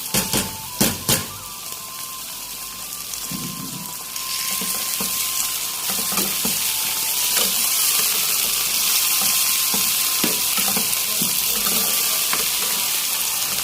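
A few clattering knocks, then a steady loud sizzle of boiled cluster beans frying in hot oil with cumin that continues and grows slightly, with occasional stirring clinks.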